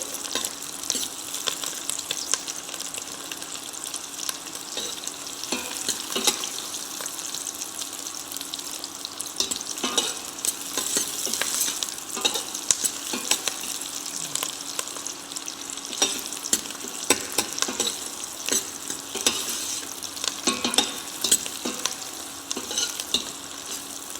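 Chopped onion sautéing in a pan for brown sauce, a steady broadband sizzle and crackle with occasional stirring scrapes, continuous and fairly close throughout, no voices.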